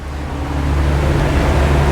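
A 2022 Regal 38 SAV day boat with 900 horsepower, running at about 1,400 revs, gives a steady low engine drone mixed with rushing water and wind noise, loud and continuous with no talk.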